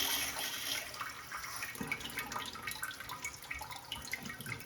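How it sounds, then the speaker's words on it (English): Eco Nova bidet front wash spraying water in a bathroom, a steady close hiss of spray that starts louder and settles into a continuous splashing wash without speech. "I'm gonna try the front wash, and this might hit me in the face."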